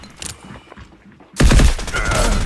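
An enemy opens fire in the shooter game Delta Force: after a quieter stretch of muffled movement, a loud, sudden burst of automatic gunfire erupts close by and keeps going to the end.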